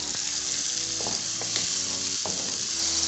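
Food cooks in a hot pan with a loud, continuous sizzle, broken by a few scraping stirs of a utensil against the pan.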